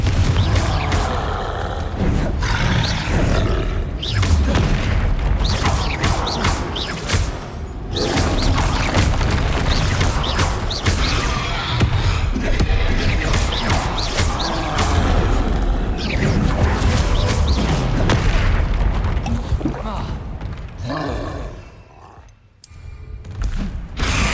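Spell blasts in the Hogwarts Legacy game, fire and explosive spells like Incendio and Confringo, in a dense, loud run of booms, crashes and thuds that never lets up, easing only near the end.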